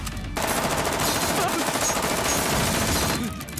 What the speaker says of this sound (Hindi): M16 ऑटोमेटिक मालिक